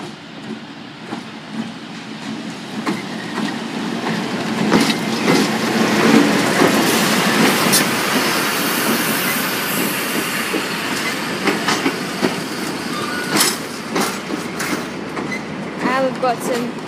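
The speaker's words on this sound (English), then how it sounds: "we've got the Heritage train returning from Malden. It is being hauled by a Y-class locomotive" A heritage train hauled by a Y-class diesel locomotive passes at Castlemaine, Victoria, its wheels clattering rhythmically over rail joints. The sound swells to a close, loud pass, then trails off with brief metallic wheel squeals.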